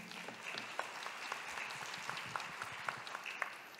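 An audience at a forum event claps together in a continuous patter of applause, moderate in volume and heard from across the room.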